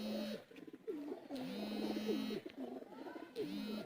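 Teddy pigeons coo in repeated low, rolling phrases, several overlapping calls close by, with a steady background hiss throughout.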